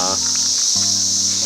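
Cicadas drone in a loud, continuous, high-pitched buzz that holds steady from start to finish, with no talking.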